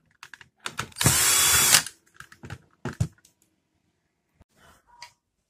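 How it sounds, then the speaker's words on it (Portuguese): Screw being backed out of a Brother DCP-7535DW laser printer with a hand tool: scattered small clicks and rattles, then a second-long loud whirring burst, followed by a few more close clicks and knocks. "vão retirar este parafuso aqui"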